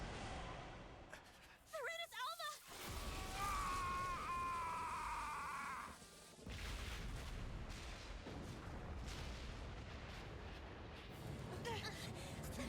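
Explosions and blasts in an anime video game, a burst of sharp booms followed by a sustained loud roar of rumbling detonations and a whistling tone, filling the whole clip.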